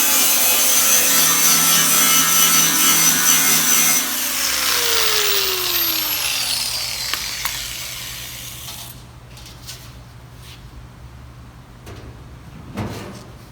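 A grinder works a metal barrel so a bolt-on flange will sit down inside it, part of a woodgas heat-exchanger build for a V10 Dodge: loud, steady abrasive grinding for several seconds, then a falling whine as the tool spins down, followed by scattered light clanks.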